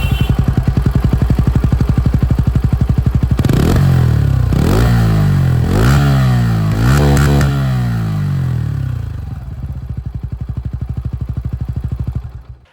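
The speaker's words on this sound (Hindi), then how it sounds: "इसकी जो एग्जॉस्ट साउंड है वो भी मैं आप लोगों को" A Bajaj Pulsar N160S 4V 160cc motorcycle exhaust, loud and close, idling with a steady thumping pulse before several sharp revs rise and fall in quick succession, then settling back to a rhythmic idle.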